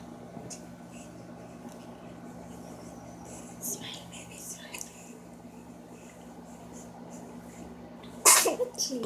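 A single sharp sneeze bursts out near the end, close and loud, after quiet indoor background with faint whispery murmurs in a home in the Philippines.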